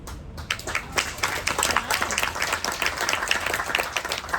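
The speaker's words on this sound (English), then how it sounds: "Can I hear the clapping again?" A small crowd at a magic show gives a steady round of applause, dense overlapping clapping that holds at a fairly loud, even level throughout and is heard on its own, with no talking on top.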